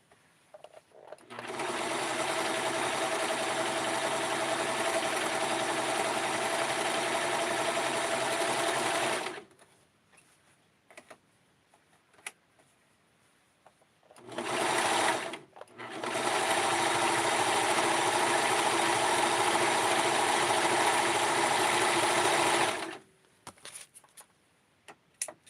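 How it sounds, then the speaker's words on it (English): A sewing machine stitching lace runs steadily in two long, even bursts of rapid mechanical whirring, separated by a quiet pause with a brief start-stop between them. "And I'm going to sew this here"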